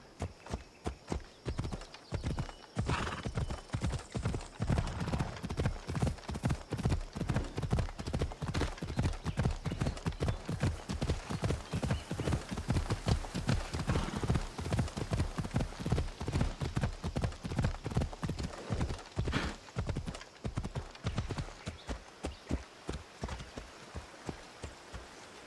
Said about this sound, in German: Da können wir ja mal das Pferdchen nehmen.